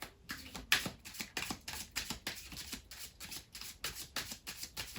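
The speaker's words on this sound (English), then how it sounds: "I sometimes go into my own little world and I start shuffling." Cards are shuffled during a tarot-style card reading, giving a run of quick papery riffles and soft slaps in a steady rhythm. The sound is close and fairly quiet, and no one speaks.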